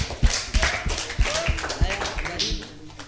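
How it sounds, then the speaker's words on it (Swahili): An audience claps at a Kenyan music performance: short irregular bursts of hand claps and taps, close and fairly loud, mixed with voices. "Tupigie makofi"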